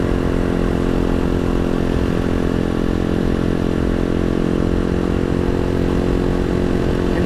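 A Halcyon 250 motorcycle rides a gravel road in rural Vermont, its engine droning loud and constant alongside tire clatter on loose stones, with no voices.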